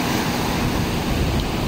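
Large ocean waves crash and surge during a typhoon, a continuous loud roar of surf mixed with strong wind buffeting the microphone, steady and close throughout with no speech.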